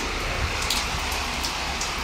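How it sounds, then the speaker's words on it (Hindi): Heavy downpour falling outside on a monsoon morning, a steady dense hiss of rain with no pauses, fairly close and loud throughout. "झमाझम बारिश"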